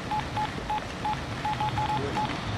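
Mobile phone keypad dialing tones, a series of short, evenly pitched DTMF beeps spaced irregularly over a steady background hum, close and clear with no talking.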